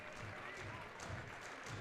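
A crowd at a high school basketball district quarterfinal game applauds steadily as a senior player leaves the floor, a soft, distant patter of clapping with faint commentary beneath.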